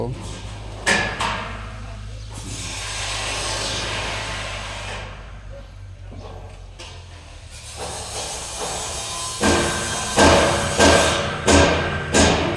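Sharp hammer blows on a house roof frame at a construction site ring out over a steady low hum, scattered at first, then a quicker run of strikes near the end, with faint background voices.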